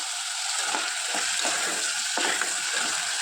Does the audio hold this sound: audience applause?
no